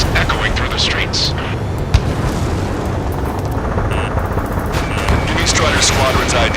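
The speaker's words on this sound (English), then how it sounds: "gunfire and the roar of jets echoing through the streets" Dense, loud roar of jet engines and explosions with scattered bursts of gunfire in Ace Combat 7: Skies Unknown, a constant chaotic wash of battle noise.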